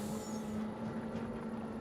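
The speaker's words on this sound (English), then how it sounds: "I like this Volvo truck noise." Volvo truck in Farming Simulator 25 idling with a steady, low engine hum and a constant tonal drone. A brief hiss, like an air brake release, sounds near the start.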